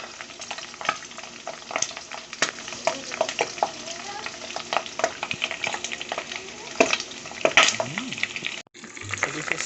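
Kinupusan, small chicharon pops, frying in oil: busy close sizzling with frequent sharp pops and crackles, moderately loud, with faint talk at moments.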